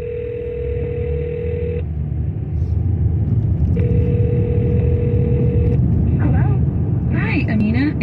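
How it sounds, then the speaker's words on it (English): Phone call placed from a radio studio: two long steady dial or ringback tones with a pause between, over a low rumbling background, ending in brief garbled voice. "Let's get her on the phone. We're going to call her,"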